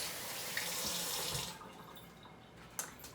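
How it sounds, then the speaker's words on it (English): Tap water runs and splashes over hands being rinsed in a kitchen sink for about a second and a half, then cuts off, leaving faint drips and small clatters. "Now let's get a quick rinse in my hands."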